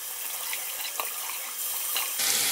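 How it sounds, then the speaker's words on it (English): Warm tap water runs into a sink to wet a cleansing cloth, a steady close splashing hiss that grows slightly louder toward the end. "moisten the cloth with some warm water"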